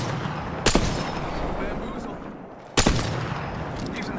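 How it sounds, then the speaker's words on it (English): Enemy gunfire in the shooter game Pathfinder: two loud bursts of rapid shots about two seconds apart over dense battle noise and steady background sound. "The enemies are shooting at me"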